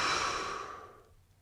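A long, breathy exhale during qi gong practice, loud at first and slowly fading over about a second and a half, alone with no talk.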